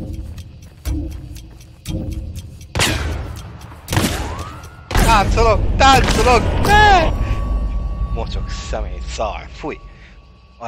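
Dynamite thrown in the video game Hunt: Showdown, with several heavy thumps and booming blasts rolling out over about ten seconds, mixed with tonal game effects and a sustained whine.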